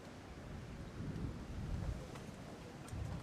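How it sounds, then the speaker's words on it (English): A strong gust of wind buffets the microphone at an outdoor padel match in Miami, a low roaring rumble that swells and fades for a few seconds with no talk. "Massive gust coming in."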